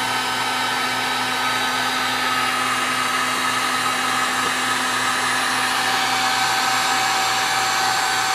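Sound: heat gun heating the base of an LED bulb

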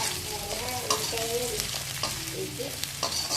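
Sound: stirring fried potato pieces in a pan

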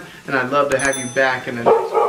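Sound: dog barking

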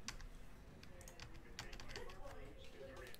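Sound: typing on a computer keyboard

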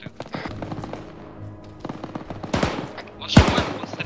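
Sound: gunfire from an enemy in the video game ArmA 3

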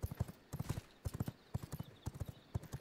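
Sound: horse galloping in the video game V Rising

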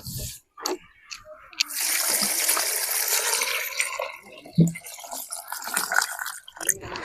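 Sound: water poured into a cooking pot

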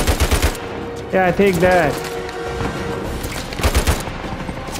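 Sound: gunfire from the video game Uncharted 4

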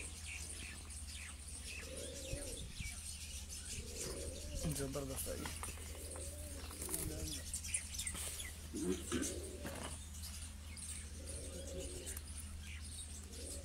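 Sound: straight-feathered racing pigeons cooing

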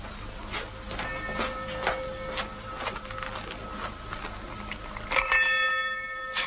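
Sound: small hand bell ringing

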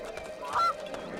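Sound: chickens clucking in the video game Two Worlds

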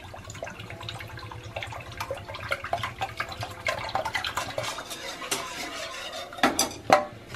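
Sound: pouring evaporated milk into a pot

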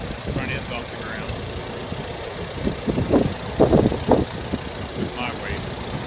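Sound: Ford 8N tractor engine running while mowing

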